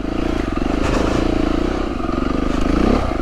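An Aprilia Tuareg motorcycle churns along a muddy trail, its engine a loud, steady close drone with rattling and clatter from the bike throughout.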